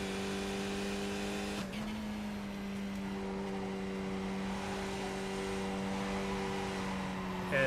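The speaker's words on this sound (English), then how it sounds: "Turn back the car sound a little bit there." Steady droning race car engine from the iRacing sim game, holding a constant pitch with a brief shift or rev change early on, moderately quiet and with no voices over it.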